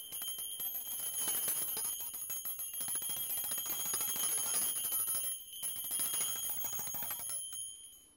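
Bright, high metallic Q'ero ritual bells jingle continuously with a steady shimmering ring, pausing briefly once before fading out at the end.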